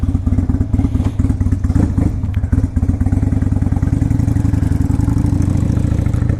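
A 2002 Honda VLX 600 Shadow motorcycle engine runs steadily and loud up close through a test ride, its low rhythmic thumping pulse rising slightly under light throttle, with no talking.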